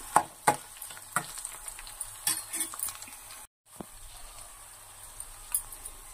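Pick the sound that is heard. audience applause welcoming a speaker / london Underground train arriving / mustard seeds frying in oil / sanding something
mustard seeds frying in oil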